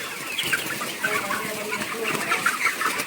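Chickens clucking inside a poultry farm shed, a busy overlapping chorus of clucks and chatter from many birds at close range that keeps up steadily throughout.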